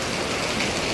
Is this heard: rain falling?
yes